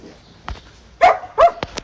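Guard dogs bark in short, sharp bursts, two loud barks standing out among a few quieter yips and thumps, close by with no talking.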